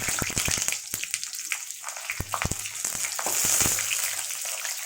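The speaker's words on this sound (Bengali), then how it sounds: "এই যে পটলগুলো আমি ভেজে নিচ্ছি।" Sliced pointed gourd sizzles in hot oil, a steady crackling fry broken by sharp clicks and taps of a utensil against the pan.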